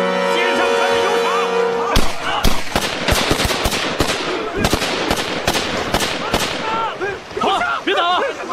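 Rapid gunfire fills a scene from a Chinese period film, a dense volley of loud sharp shots in quick succession, followed by shouting voices as the firing stops.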